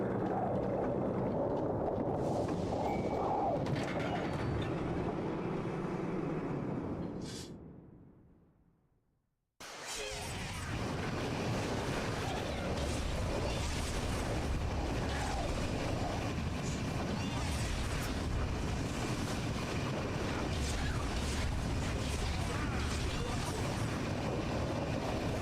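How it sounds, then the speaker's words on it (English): Steady low mechanical rumble of an elevator ride in the PS3 game Mask of Folklore, fading out, cutting briefly to silence, then resuming as a constant loud drone. "This will be the last elevator ride"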